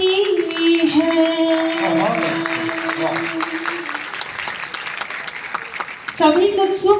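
An audience at a Hindi poetry recital at a Delhi college claps. A dense patter of applause rises through the middle, with a man's chanting, recitation-style voice over it at the start and end.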